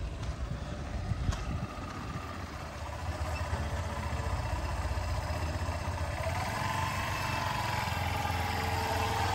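A motorcycle engine during a riding exam hums steadily at a distance, a continuous mid-pitched drone with slight rises as the rider accelerates, no voices over it.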